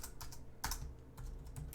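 Quick, quiet keystrokes clatter on a computer keyboard in an irregular burst of taps, close by and without talking.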